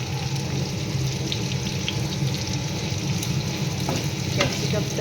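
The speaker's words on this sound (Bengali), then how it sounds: "এবার এগুলোকে ভেজে নেব।" Chicken pieces for chilli chicken frying in a pan, a loud steady sizzle and crackle that runs the whole time, with light stirring scrapes on top.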